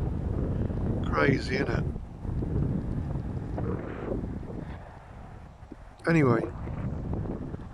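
Wind gusting outdoors beside an unfinished country cottage, a steady rough rumble buffeting the microphone throughout, with someone talking briefly over it.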